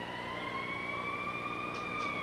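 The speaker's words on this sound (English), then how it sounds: "Here goes the siren. I don't know why, but the siren is going off." A stadium siren wails steadily at Olympic Stadium in Montreal during a baseball game, a sustained rising tone that carries with no talking over it.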